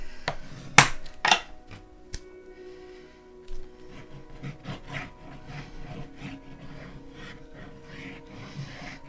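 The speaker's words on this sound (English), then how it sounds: "Burnish this down before you put the glue on it." Paper being burnished down by hand onto a mini album cover, producing a few sharp taps early on and then a run of soft, repeated rubbing strokes, close and fairly quiet.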